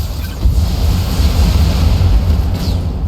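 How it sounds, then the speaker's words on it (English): A mech's ammunition explodes in a BattleTech battle: a loud, sustained low rumbling blast that swells after a moment and rolls on for about three seconds, with hiss above. "Okay, ammo explosion, that'll do it."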